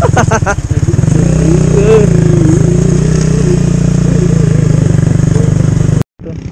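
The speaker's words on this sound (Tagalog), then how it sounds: "Umaangat yung motor ko" A motorcycle engine labors uphill on a motocamping ride toward a nature park in Quirino Province, a loud close steady drone with a few sharp revs at the start, then it cuts off abruptly near the end before resuming.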